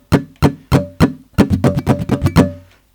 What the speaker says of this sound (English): you're just muffling the strings and you're doing a down strum, a brush down strum